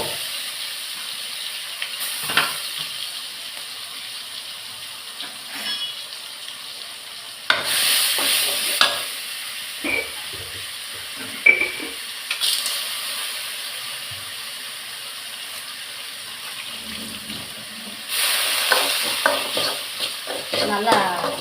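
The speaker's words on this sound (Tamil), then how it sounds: "நல்லா எண்ணெயிலேயே வதக்கிட்டேன்னா புளி ஊற்றிட வேண்டியதான்" A ground spice paste with fenugreek frying in oil as it is stirred, a loud, close sizzle and hiss that swells with each stir, with a few scraping knocks and no talking.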